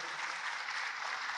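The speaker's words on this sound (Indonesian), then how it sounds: "Tepuk tangan dong untuk Luna dong." An audience claps steadily and densely in a hall at a conference session, a continuous wash of applause with no pauses.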